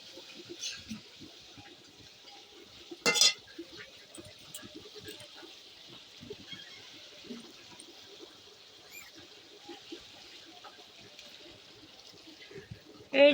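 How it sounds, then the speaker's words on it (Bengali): Vegetables being stirred with mustard paste in a pan give soft, scattered scraping and wet sizzling sounds, with a couple of sharper clanks near the start and end. "দিয়ে এখন ভালো করে নাড়াচাড়া করে নেবে।"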